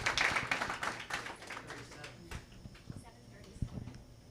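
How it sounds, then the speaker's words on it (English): Audience at a human trafficking awareness event clapping for the organizing committee, a moderate round of applause that quickly tapers into sparse individual claps. "Let's give a round of applause to our wonderful committee"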